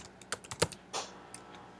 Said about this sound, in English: So I type in divide